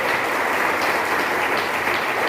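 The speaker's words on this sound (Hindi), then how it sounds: "एक बार जोरदार तालियां हो सकती है इनके लिए।" An audience gives a short burst of dense, even applause that fills the space at a steady level for a couple of seconds.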